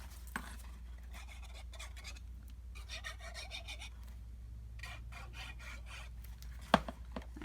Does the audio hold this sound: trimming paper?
yes